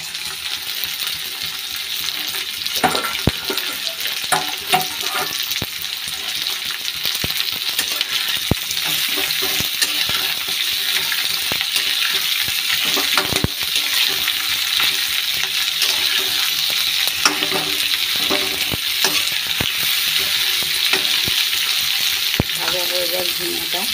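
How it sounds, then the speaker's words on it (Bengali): Ridge gourd and potato frying in a pan, a steady bright sizzle with occasional clinks and stirring scrapes, loud and continuous throughout. "ভাজা হয়ে যায় ঝিঙেটা।"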